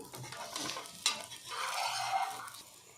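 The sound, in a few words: amaranth leaf egg omelette frying in pan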